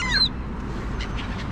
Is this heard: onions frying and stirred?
no